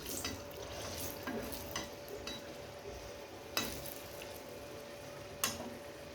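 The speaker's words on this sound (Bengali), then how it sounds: "গ্যাসের কড়াইটা চাপিয়ে দিয়েছি, তেল দিয়ে দিয়েছি লঙ্কা ভাজার জন্য" Green chilies fry in hot oil in a pan on a gas stove, giving a steady low sizzle with faint stirring scrapes and two sharp clicks or pops near the end, no voices.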